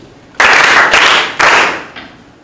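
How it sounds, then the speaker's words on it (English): A short burst of crowd applause, loud and close, with two swells of clapping that fade out after about two seconds. "Clap for them."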